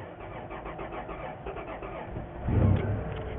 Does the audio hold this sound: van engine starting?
yes